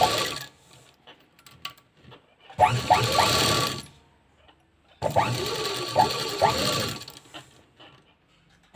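Sewing machine stitching two fabric pieces for a tassel in a round shape, two loud runs of rapid mechanical whirring separated by a short pause.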